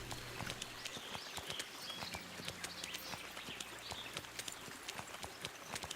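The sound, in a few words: horse hooves clip-clop in video game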